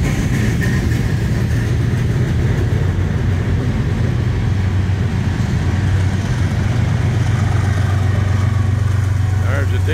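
A heavy, steady diesel rumble of eastbound BNSF freight locomotives climbing a mountain grade near Skykomish, Washington, laboring continuously, loud and close, with a constant low engine drone throughout.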